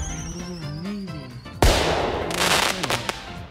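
Fourth of July fireworks going off: one sharp, loud bang followed a moment later by a run of crackling bursts, over a steady tonal background.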